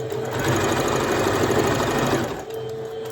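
A sewing machine stitches a shirt in a fast, steady whirring run up close, then slows and stops near the end.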